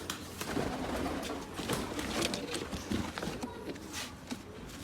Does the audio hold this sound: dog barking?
no